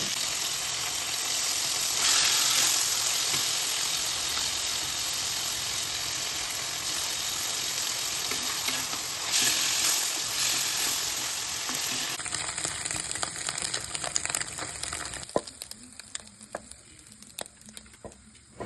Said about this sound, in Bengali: এবার একটা কড়াইয়ে তেল গরম হয়ে গেছে, তাতে চিংড়ি মাছটা ভালো করে ভেজে নিচ্ছি।